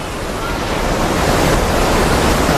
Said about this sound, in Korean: 폭포를 좀 더 가까운 곳에서 보기로 한 두 사람.